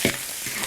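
Beef brisket hits hot oil in a wok with a broad, steady sizzle that fills the short moment, close and fairly loud, with a faint scrape near the start.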